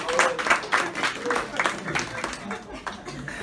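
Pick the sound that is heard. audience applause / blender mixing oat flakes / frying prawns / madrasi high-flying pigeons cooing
audience applause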